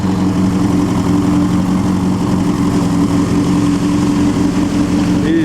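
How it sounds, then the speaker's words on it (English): 1935 Fiat Balilla four-cylinder cars on the Mille Miglia road race, a steady, loud engine drone with a low hum, heard close and continuous throughout rather than as a distinct pass-by. "Boom. 4-cylinder. The Fiats are coming, the Fiats."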